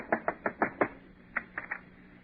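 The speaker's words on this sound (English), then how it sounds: "Go ahead, knock on the door." Knuckles rap on an apartment door: a quick run of five firm knocks, a short pause, then four more, close and clear with no talk over them.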